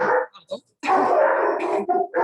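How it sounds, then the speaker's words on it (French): Dogs bark in short bursts near a horse-nutrition presentation, a few yips then a longer barking stretch, sharing the space with someone speaking French. "Désolée pour les chiens."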